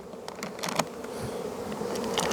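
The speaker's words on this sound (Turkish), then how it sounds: "Çünkü içinde arılar var." Bees hum around an open hive box in late March while cake feed sits on the frames, a low close buzzing with individual insects flitting past in brief louder bursts.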